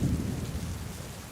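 Steady heavy rain with low rumbling thunder during the monsoon over a shallow lake near Indore, a dense continuous wash of sound with no voices.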